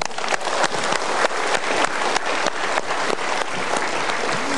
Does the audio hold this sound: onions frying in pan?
no